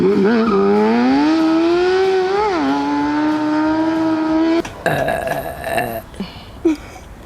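A motorcycle's high, rising engine whine revs hard for several seconds, then breaks into harsh, scraping tire squeal and skidding noise while drifting, loud and close.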